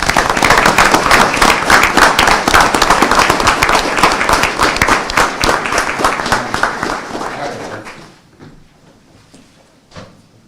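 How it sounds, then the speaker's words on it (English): Applause for a scout troop fills a city council meeting chamber, a dense burst of many hands clapping loudly for about eight seconds before thinning out to a few scattered claps. "Let's give an absolute round of applause for Troop 4."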